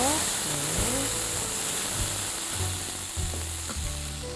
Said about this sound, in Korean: 식용유 작은 거 1스푼, 들기름 작은 거 1스푼, 여기에 양념한 시래기 넣어서